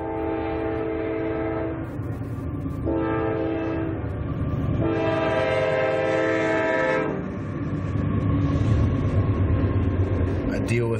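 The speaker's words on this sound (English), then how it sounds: "I've got a train, of course, stopping me. I'm going to see if I can pause for a moment here and let it go by." A train passes close by at night, a loud continuous rumble of rail cars with sustained horn blasts rising and falling over about eleven seconds, with no pauses.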